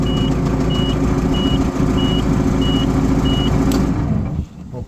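Kubota diesel engine running steadily after being cranked on a new universal ignition switch, a loud continuous rumble with a repeating electronic beep over it, cutting off near the end.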